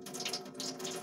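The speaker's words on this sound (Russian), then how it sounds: "Давайте я вас немножко сполосну чуть-чуть." Small pet snails being rinsed under a tap, a soft, brief trickle and splash of running water heard close and fairly quiet.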